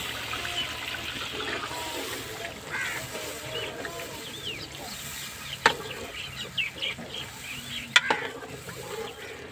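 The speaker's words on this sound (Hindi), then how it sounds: "अभी मैं ऐड कर रही हूँ अंडे।" Eggs go into a fried masala curry in a home kitchen, and a soft wet sizzle and bubbling follow, with a couple of sharp clinks and stirring scrapes, close and moderate in level.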